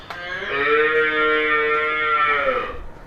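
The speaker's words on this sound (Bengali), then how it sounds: "এই যে গরুটা" A large dairy cow on a dairy farm lets out a single loud, close, sustained moo lasting nearly three seconds, with no talking over it.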